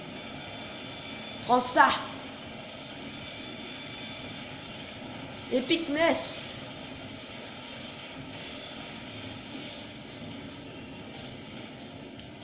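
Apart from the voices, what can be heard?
helicopter flying in Just Cause 3 video game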